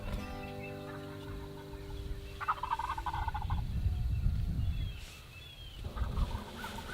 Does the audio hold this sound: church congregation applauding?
no